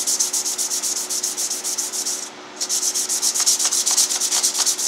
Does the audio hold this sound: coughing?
no